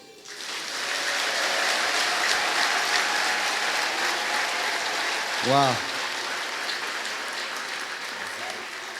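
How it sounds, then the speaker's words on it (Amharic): A church congregation with raised hands claps in a dense, sustained round of applause, close and steady throughout, with one voice exclaiming briefly partway through. "ባነሳችሁት እጅ አጨብጭቡ።"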